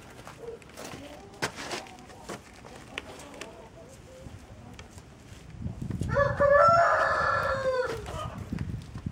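Laying hens in a winter coop are fed sprouted wheat. Scattered clucks and short calls come first, then louder overlapping squawks and crowing-like cries from the flock, with faint rustling between them.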